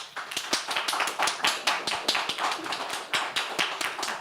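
Audience clapping after a call to applaud during a live rate-the-hate challenge session, sharp hand claps with a loose, irregular rhythm continuing steadily throughout, moderately close and fairly loud.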